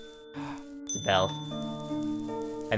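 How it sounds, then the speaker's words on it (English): A bell struck in the video game OneShot, a bright metallic ding with ringing tonal partials and a lingering tail, heard twice among soft game ambience. "The bell."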